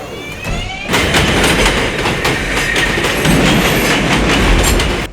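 A subway train, running as an express in the movie The Taking of Pelham 1 2 3, rumbles along the track with a steady clickety-clack, loud and close after a quieter first second, with no voices over it.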